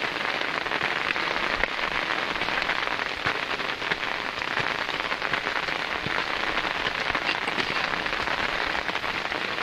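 Heavy rain pours down steadily for the whole stretch, a dense and loud wash of patter with scattered sharper drops, and no voices.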